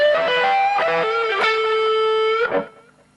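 Distorted electric guitar plays a short passage from a guitar solo in first position, a few quick picked notes and bends settling into a sustained note that cuts off, loud and close with no talking.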